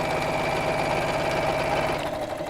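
Domestic sewing machine running steadily at a lengthened stitch, sewing quilting lines on an Easter basket project; a continuous close, even mechanical whir with a fast rhythmic needle beat that slows and stops at the end.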